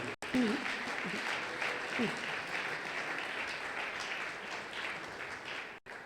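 A church congregation at a Sunday praise and thanksgiving service claps steadily for Jesus, a dense, even wash of applause lasting several seconds, with faint voices mixed in.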